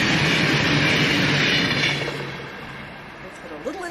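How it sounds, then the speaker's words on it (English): Train rumbling past, a broad roar that is loud for the first two seconds and then fades as it moves away, with a voice breaking in near the end. "Makes it a little inconvenient to have that train going back and forth."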